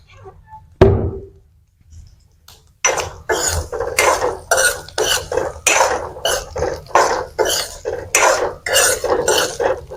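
Garlic roasts in a pan for pickle as a spoon stirs and scrapes against metal in repeated, rhythmic clinks and scuffs, loud and close, after a single sharp knock and a brief quiet opening.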